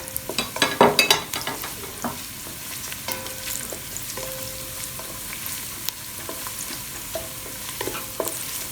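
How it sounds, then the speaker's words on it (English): Steady sizzling of onion and garlic frying in a pan, with a burst of stirring and scraping at the start and occasional clinks of a utensil. "from the frying of onion and garlic."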